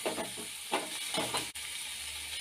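Dried anchovies sautéing in a masala base for a village-style anchovy curry, giving a steady broad sizzle with soft stirring scrapes recurring every half second or so, no voices.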